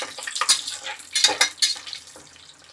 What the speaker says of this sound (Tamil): நல்லா பொரியுதாம்பா